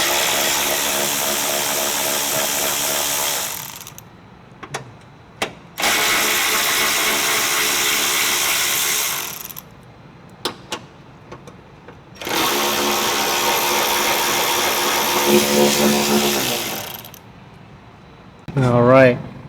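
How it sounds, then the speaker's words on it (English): A cordless power tool spins off 10 mm bolts from the passenger-side fender of a 2020 Honda Odyssey, running in three loud sustained bursts separated by quieter pauses with clicks and handling noise, close to the listener. "I have a power tool, but if you guys have a ratchet, that's fine also"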